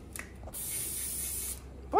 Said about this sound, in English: Why are you spraying on your hand?